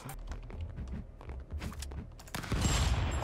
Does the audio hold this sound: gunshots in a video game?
yes